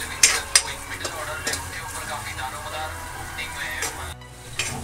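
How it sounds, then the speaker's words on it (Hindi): Chopped onions and green chillies fry in a pan with a soft steady sizzle, broken by sharp clinks and scrapes of a stirring spoon against the metal. "अब हम इसमें कटी हुई हरी मिर्च डाल देते हैं, और प्याज थोड़ा सा प्याज को ब्राउन होने तक छोड़ देते हैं"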